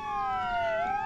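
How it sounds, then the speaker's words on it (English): A police car siren in the Roblox Jailbreak video game wails steadily with a sliding pitch, sounding moderately loud and continuous with no talking over it. "Turn off your sirens."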